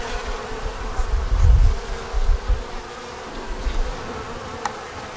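Honey bees swarm around a nuc hive with a steady, close buzzing hum that swells a little now and then, and no voices.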